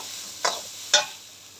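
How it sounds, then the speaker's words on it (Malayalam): Crushed coconut, cumin, garlic, turmeric and chili are stirred in a hot pan, giving two short, sharp sizzling scrapes about half a second apart over a faint steady hiss. "ഇതെല്ലാം കൂടെ ചതച്ചിട്ട് ഇതിൻ്റെ അകത്ത് ഇച്ചിരി ഒന്ന് ചൂടാക്കിയെടുക്കട്ടെ"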